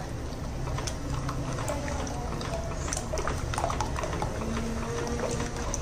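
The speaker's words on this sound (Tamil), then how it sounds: "இதை வந்து நம்ம கைவிடாமல் கிண்டிக்கிட்டே இருக்கணும்" Black urad dal flour stirred nonstop into hot water in a pot, giving a continuous close, wet bubbling and slurping with light scraping as the thickening mixture is worked.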